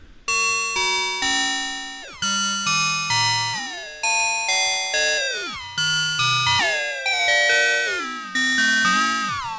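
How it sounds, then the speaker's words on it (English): Synthesized bell tones from Arturia Jupiter-8 V4 chime in a repeating sequence of bright, metallic notes, each struck sharply and decaying, with pitches bending and shifting between phrases. "Quite a variety of bell sounds you can get with that."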